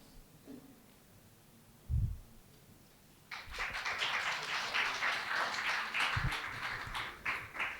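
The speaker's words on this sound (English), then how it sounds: "Guys, please give a hand of applause." An audience of students claps for classmates receiving certificates, a dense burst of applause that starts suddenly after a quiet moment and carries on steadily to the end.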